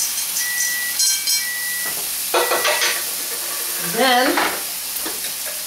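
A pat of butter melts and sizzles in a hot pan, a steady soft hiss with brief stirring and scraping clatter over it, close by, and a single short spoken word partway through.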